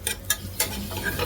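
Small shallots frying in hot oil for kalathappam, a steady close sizzle broken by a few sharp stirring scrapes and clinks.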